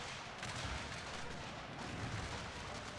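Artillery fire in the Unequal Treaties strategy video game forms faint, distant, low booms that blend into a continuous rumbling battle din, with no talking.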